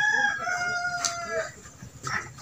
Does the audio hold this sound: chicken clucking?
yes